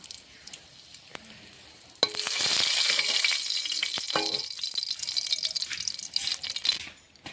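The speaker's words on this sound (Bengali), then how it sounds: "দিয়ে দিচ্ছি সর্ষের তেল, অল্প করেই দেবো। দিয়ে দেবো একটা শুকনো লঙ্কা" A dry red chilli hits hot mustard oil in a pan and bursts into a loud, close sizzle. A few clinks come first, then steady crackling frying for about five seconds that fades at the end.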